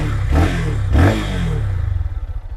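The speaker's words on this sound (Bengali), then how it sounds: "এক্সস্ট নোটটি একটু শুনে নেওয়া যাক।" A 2022 Lifan KPR 150 motorcycle revving through its exhaust, two loud throttle blips close by, then the engine settling into a pulsing idle.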